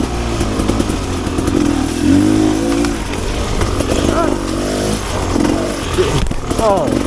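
A Rieju Ranger 300 dirt bike with an FMF Gnarly exhaust rides in wet conditions, its engine note rising and falling close to the rider, with a voice talking over it.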